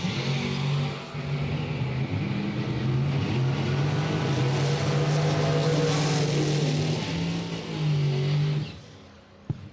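A 1970 Camaro and a 1970 Datsun 280Z launch down a bracket drag strip, the engines roaring loud and sustained with rising pitch before cutting off abruptly, with no voices.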